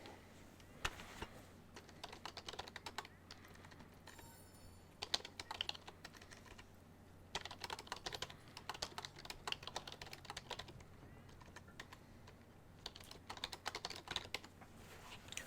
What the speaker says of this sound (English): Let me just say that on the keyboard to make sure they've read it.